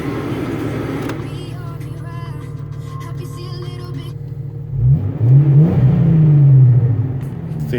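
A truck engine fitted with a Flowmaster exhaust idles with a deep steady rumble, then revs up hard in a swelling low roar before settling back, loud and close.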